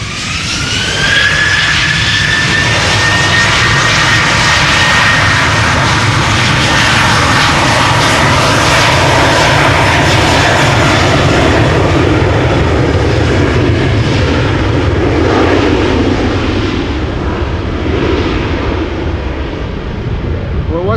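A KLM jet airliner departing Amsterdam Schiphol Airport roars loud and close, a sustained thunderous engine rumble with a rising high whine that slowly fades as it climbs away, voices talking over it.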